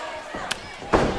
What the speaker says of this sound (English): after connecting with the knife-edge chop to the chest